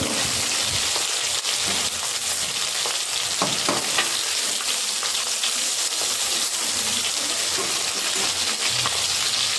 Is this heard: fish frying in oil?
yes